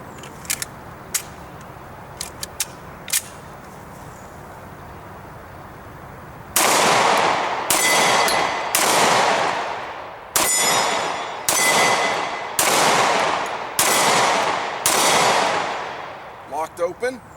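A Hi Point C9 pistol fires eight rounds one after another, each loud sharp crack trailing into a ringing decay at roughly one-second intervals, preceded by a few faint clicks.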